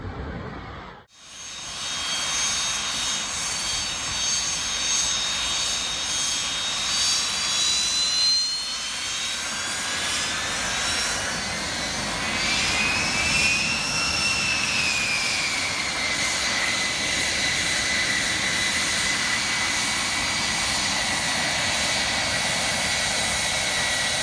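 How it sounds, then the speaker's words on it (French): A Dragonfly fighter jet roars past, a loud sustained jet engine whine with rising and falling high tones as the aircraft passes, after a brief cut at the start. "La Libellule, un avion de chasse redoutable largement reconnu et au nom charmant."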